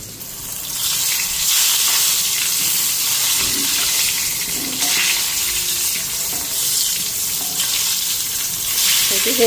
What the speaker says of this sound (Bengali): বেগুনের এক পিট ভাজা হয়ে গেছে